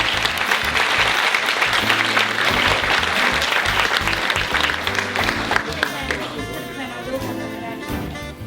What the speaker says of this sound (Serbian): Ovo je Andreja Livaja, bio molim jedan veliki aplauz za njega.